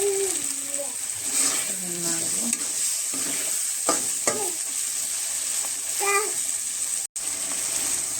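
Meat frying in a pan with ginger-garlic paste, a steady close sizzle under repeated scraping stirs, with a voice talking over it.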